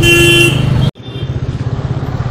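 Busy city traffic in which motorcycles and cars rumble while a sharp horn blares briefly. The horn cuts off suddenly, leaving a steady, uneven engine drone.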